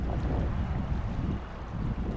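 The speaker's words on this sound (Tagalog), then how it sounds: "Agos ng tubig. High tide na siguro, no? High tide na eh. Malakas eh." A steady, heavy low rush of strongly flowing water at high tide, loud and continuous, with wind buffeting the microphone and no voices.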